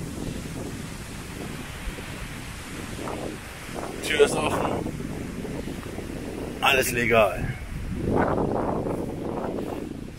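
Strong wind gusts across an outdoor property at an abandoned house, roaring and buffeting the microphone continuously with swells of rushing noise while someone talks over it in German.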